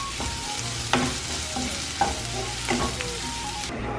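Onions sautéing with salt in a pan over a medium flame for a Kerala-style beef curry, a steady low sizzle broken by several sharp scraping stirs of a spoon against the pan, close and moderately loud.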